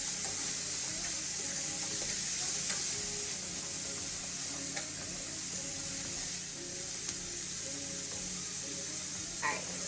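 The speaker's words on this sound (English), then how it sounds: "I'll let this cook for about 45 seconds to a minute. Just to saute it up a little bit, especially my celery" Celery and peppers sautéing in butter in a pan, a loud continuous close sizzle with occasional stirring scrapes, steady throughout with no talk.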